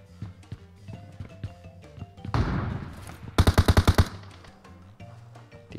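Gunfire in the PUBG Mobile video game: a scattered burst of shots is followed by a rapid run of about eight loud, evenly spaced automatic-weapon rounds, with faint ambient game sounds around them.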